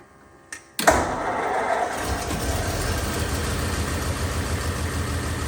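Original low-mileage 1940 Ford Deluxe Tudor sedan engine catching on a cold start with a sharp burst, then settling into a steady, even idle that runs loud and close for several seconds.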